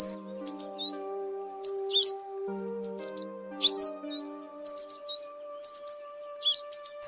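Yellow-bellied wagtail calls to its flock: repeated short, sharp chirps and rising whistled notes in quick bursts, fairly close and clear over a steady low tonal hum.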